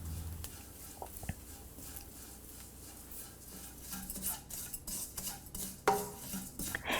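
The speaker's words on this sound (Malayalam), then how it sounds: "ഇതിലോട്ടിനി നമ്മൾ എടുത്തു വച്ചിരിക്കുന്ന പെരിഞ്ജീരകം ആഡ് ചെയ്ത് തുടർച്ചയായി ഇളക്കിക്കൊണ്ടിരിക്കണം" Grated coconut browning with fennel seeds in a pan for a brinjal and mushroom theeyal, stirred nonstop: a spoon scrapes and clinks against the pan in irregular strokes over a low background hiss, growing busier toward the end.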